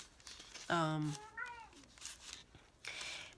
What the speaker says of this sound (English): My 18-year-old kitty.